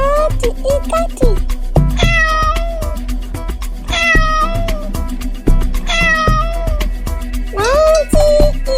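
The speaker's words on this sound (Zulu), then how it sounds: "Nantsi ikati," A cat meows loudly and close by, four drawn-out meows at roughly two-second intervals over a steady rhythmic backing.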